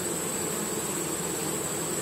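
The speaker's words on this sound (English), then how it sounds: "thought it'd be interesting to shoot some bees fighting" Honeybees fighting at a hive during robbing, a dense, continuous buzzing drone of many insects, close and steady throughout with no voices.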